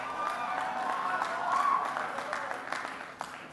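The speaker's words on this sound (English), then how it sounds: "that's right, worthy of applause." Audience applause during a speech at the annual March for Life in Washington D.C., a steady wash of crowd clapping with some cheering, moderately distant and continuous for a few seconds.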